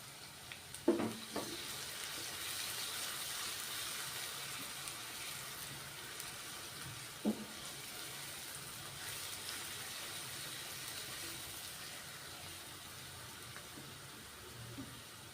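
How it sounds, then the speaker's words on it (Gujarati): Onion and green chili fry in a pan with a steady, hissing sizzle that carries on throughout, broken by a few brief clanks of utensils; no one speaks. "ડુંગળીને આપણે ગોલ્ડન બ્રાઉન કરીશું"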